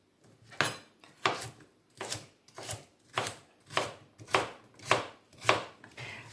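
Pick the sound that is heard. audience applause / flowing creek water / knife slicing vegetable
knife slicing vegetable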